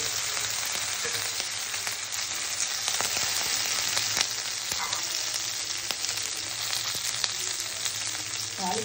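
Steady, bright sizzling of tempering spices and curry leaves in hot oil, continuous and close, with a few sharp crackles popping through and a low hum underneath.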